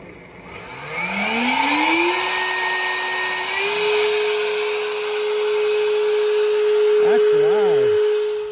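A GardenJoy 40V cordless leaf blower spins up to high speed with a rising electric whine, then holds a loud, steady, close-range drone with a brief warble near the end.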